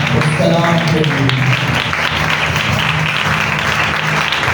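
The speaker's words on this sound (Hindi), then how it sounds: "उस कलाम के लिए, उसकी हजूरी के लिए जो यहाँ पर मौजूद है, उस कलाम के लिए जोरदार तालियां बजाएं।" A church congregation claps at a Resurrection Day service, a steady wash of applause running the whole way through, with voices and sustained tones mixed in underneath.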